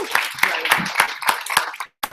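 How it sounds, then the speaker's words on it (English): A crowd at an advanced product training session gives a round of applause, with dense rapid clapping for nearly two seconds before it stops abruptly and a single last clap lands. "Can we give him a round of applause?"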